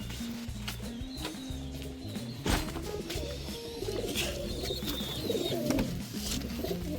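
Pigeons at a loft coo in soft, repeated low calls, with occasional wing flaps and background chatter of the birds, moderately close.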